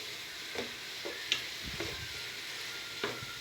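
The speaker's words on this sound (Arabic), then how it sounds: "هقلب بقى كده شويه حلوين على ما اضيف بقيه الخضار" Peas and mixed vegetables fry faintly in a pan, with a soft low sizzle broken by a few quiet spoon knocks and stirring scrapes, nearby and gentle.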